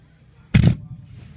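A single loud cannon blast at a Civil War reenactment on a farm, sharp boom with a rumbling tail, followed by faint background noise.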